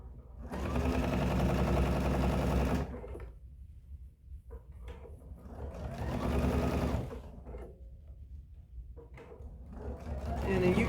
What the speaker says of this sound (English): I go about 1 stitch width on the other side of where I sewed, and then I sew about 1/8 of an inch